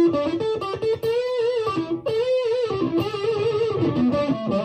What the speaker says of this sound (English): Little audio sample of this amplifier for you.